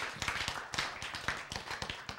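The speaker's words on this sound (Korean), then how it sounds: "박수." A small church congregation at a Bible and science lecture gives a quiet, sparse applause, individual claps tapping in an uneven rhythm, faint and close, with no talking.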